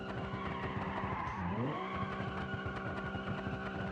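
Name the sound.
car skidding and spinning in a driving video game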